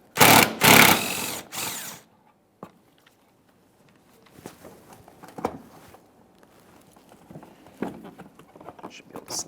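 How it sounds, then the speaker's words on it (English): A power tool, likely an impact wrench, runs in a few loud bursts up close while it removes the final mounting bolt of a washer fluid reservoir on a 2008-2017 Mitsubishi Lancer. Quieter clicks and handling noises follow. "We're holding onto the reservoir as we remove our final mounting bolt."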